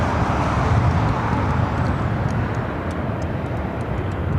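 A Frontier A320neo airliner in Swan livery, arriving at LAX from SFO, passes with a loud, steady jet roar that fades slightly toward the end.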